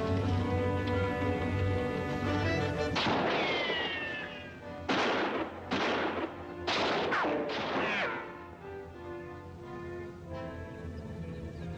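Gunfire in a Civil War battle scene rings out as several loud, close blasts and a quick volley over a sustained musical score, each shot trailing off into the background.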